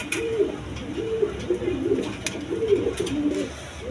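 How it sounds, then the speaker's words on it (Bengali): A male and female pair of Bombay pigeons coo in repeated low, rolling phrases at close range, with a faint murmur of background noise. "দর্শক এইখানে এক পেয়ার বোম্বাই কবুতর আছে, নর মাদি সেম টু সেম"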